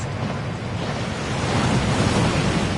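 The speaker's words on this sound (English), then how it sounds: "That waterfall washes away all enchantments." A rushing waterfall in a film scene pours in a dense, steady roar of crashing water that grows a little louder partway through, with no voices.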